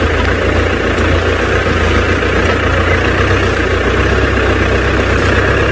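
A tractor engine idles at a steady, even pitch, giving a constant low diesel-like rumble with a continuous hum throughout and no talking.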